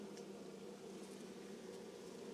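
Chinese honeybees hum steadily at an open hive, a dense, continuous drone without breaks, fairly faint and even throughout.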